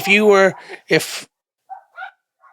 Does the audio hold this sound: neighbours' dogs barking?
yes